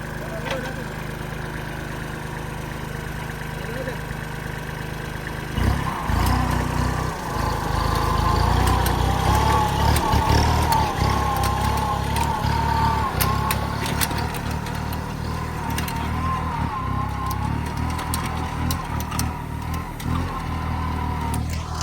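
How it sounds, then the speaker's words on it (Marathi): A tractor engine runs steadily throughout as it is driven, growing louder and rougher partway through and holding a continuous mid-pitched drone while people talk over it. "पाहूया आता सोनाली ट्रॅक्टर चालवते बघूया"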